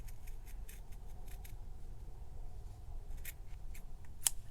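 Scissors snip through fabric for a tag in a quiet room, giving a series of faint, crisp cuts spaced irregularly, with one sharper snip near the end.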